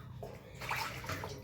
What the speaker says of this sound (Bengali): চালটা ধোবো, আলুটা ধোবো